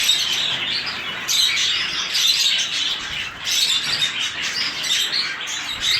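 Cockatiels chirp steadily while eating small sunflower seeds, with bright, overlapping calls and tweets that run close and fairly loud throughout, interspersed with brief squawks and wing flutters.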